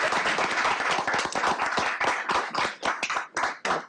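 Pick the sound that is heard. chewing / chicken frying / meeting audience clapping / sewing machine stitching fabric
meeting audience clapping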